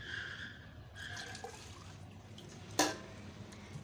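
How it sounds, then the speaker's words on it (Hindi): Water poured from a glass into a cooking pot for a desi chicken karahi, a soft steady splashing with one brief sharper splash near the end, fairly faint in a quiet kitchen. "दो किलो गोश्त के लिए 3 गिलास पानी डालूंगी"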